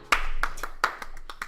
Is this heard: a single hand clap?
yes